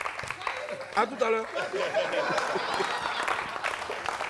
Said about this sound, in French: Donc applaudissez un peu de ça.